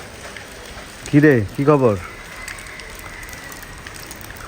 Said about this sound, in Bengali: বাইরে এখনো টিপ টিপ করে বৃষ্টি হচ্ছে, সব পানি পানি অবস্থা হয়ে গেছে